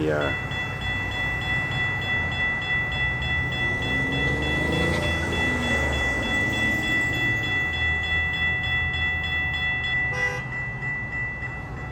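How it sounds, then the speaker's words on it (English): A Florida East Coast Railway northbound morning train rumbles steadily past Racetrack Road in Jacksonville, close and loud, with a sustained horn chord sounding throughout and a brief extra burst near the end; no talking. "one of the morning arrival northbound trains"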